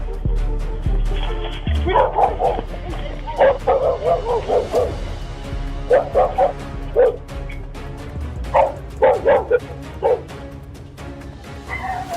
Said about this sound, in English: there's a good chance a guard dog is waiting behind it